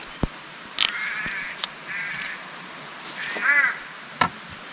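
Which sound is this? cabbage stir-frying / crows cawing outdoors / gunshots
crows cawing outdoors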